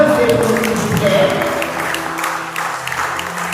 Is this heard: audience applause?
yes